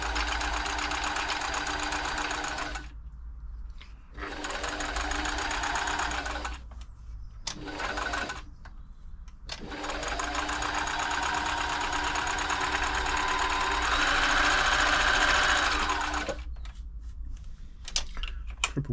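A Riccar 8400 sewing machine stitching a blind hem, its motor and needle chattering in loud sustained bursts separated by short pauses, close up with no talk.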